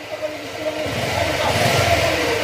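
A car that was serviced at a dealership and then overheated is warmed up with its engine revving. The engine note rises into a steady, moderately loud running sound with some clatter, and no talking.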